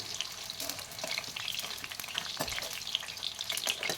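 Brinjal (eggplant) fries in hot oil for kathirikai kulambu. The oil gives a quiet, steady sizzle with scattered crackles and pops, and no voices.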